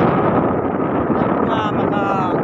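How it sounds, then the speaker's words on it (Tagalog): Strong wind at a beach in Northern Cebu, Philippines roars steadily across the microphone, a dense, continuous rushing with faint voices somewhere in the background. "kusog kay hangin diri guys."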